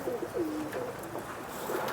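Pigeons coo repeatedly at a Jammu rooftop loft, soft low rolling calls in a steady rhythm, fairly close, with no speech over them.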